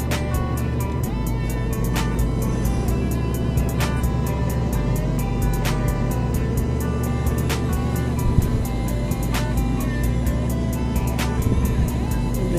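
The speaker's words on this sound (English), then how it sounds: "Let's take one of those F-250s for a spin." A Ford F-250 pickup truck drives around a dairy farm. Its engine makes a steady, droning hum with a faint regular ticking over it, staying constant and close for the whole stretch without talk.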